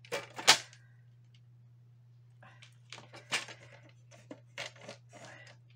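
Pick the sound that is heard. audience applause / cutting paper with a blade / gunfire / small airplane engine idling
cutting paper with a blade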